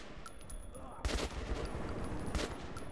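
Gunfire in Metro 2033 Redux: two sharp, loud bursts of shots stand out over a steady background din, one early and one near the end, with no talk.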